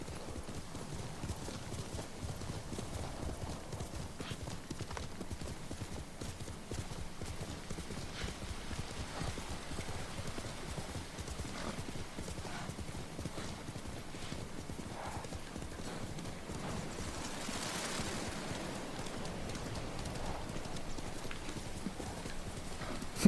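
Horse hooves gallop in a steady, continuous clip-clop rhythm throughout, with an occasional neigh, from a mount ridden across terrain in the Ghost of Tsushima video game.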